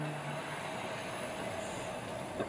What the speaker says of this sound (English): I know they always go down well, these trams, and that's on a heritage tour today.